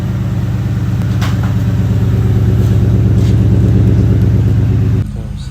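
A 2004 Ford Explorer 4.6L V8 fitted with a Cherry Bomb muffler revs at an exhaust shop, its loud, close, throbbing rumble rising and holding for about five seconds before dropping back to idle.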